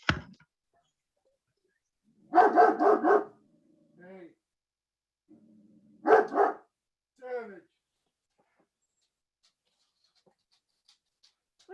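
A dog barks in two short bursts of several rapid barks, fairly close, with quieter sounds between and long stretches of near silence.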